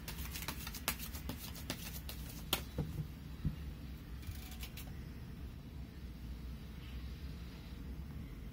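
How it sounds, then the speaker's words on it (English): Tarot cards being shuffled by hand, a series of sharp riffling clicks in the first few seconds, then quieter soft handling against a low steady background hum. "Now let me shuffle the cards for your person."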